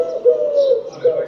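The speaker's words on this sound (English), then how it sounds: "I don't know whether the next one's going to work until that bird shuts up." A collared dove cooing loudly and close in an indoor room, a steady hooting coo with a second coo shortly after, heard alone.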